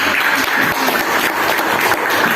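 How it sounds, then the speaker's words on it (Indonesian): Classroom audience applauding after a group presentation, a loud, sustained rush of many hands clapping at a steady level with no pause. "Beri tepuk tangan."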